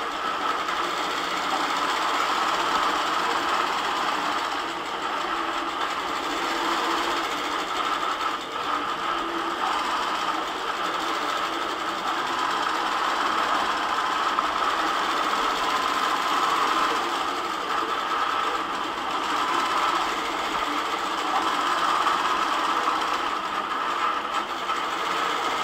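A long-arm quilting machine stitches a Nectar B2B pattern in yellow cream thread, a continuous fast mechanical whirr and rattle at steady loudness throughout, with no talk.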